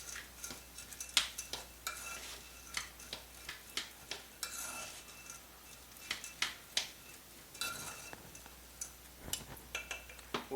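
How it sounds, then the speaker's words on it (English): Sweet corn kernels in butter are stirred in a pot, a spoon scraping and clinking against the metal in irregular strokes over a faint sizzle, with no talk. "stir it up and make sure that the butter is coated on all of the kernels"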